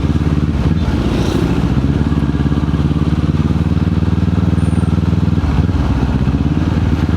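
Kawasaki Z400 motorcycle fitted with an aftermarket exhaust pipe, idling close by with a loud, steady, throbbing burble and a brief blip of revs, continuous throughout.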